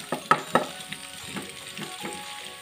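Fried potatoes and tomato sizzling in hot spiced masala for an aloo matar curry, a steady close frying hiss broken by a few sharp pops and stirring clatters early on.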